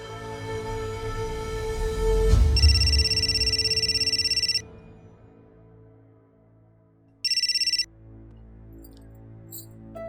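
A telephone rings indoors in a drama scene, two bright electronic trills separated by a pause of a few seconds, loud and alone over a low background hum.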